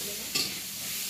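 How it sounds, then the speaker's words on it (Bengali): Eggplant fritters (beguni) deep-fry in oil in a home kitchen, giving a steady, close sizzle with one brief stirring scrape partway through. "এখানে বেগুনি ভাজা হচ্ছে"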